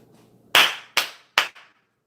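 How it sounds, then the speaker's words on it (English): Three sharp, loud hand claps spaced about half a second apart, each ringing briefly in a small room, with nothing else around them. "Jason Garrett clap."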